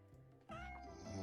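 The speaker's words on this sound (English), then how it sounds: "that's my cat" A cat gives one drawn-out meow that rises and then wavers, faint and close, with no talking.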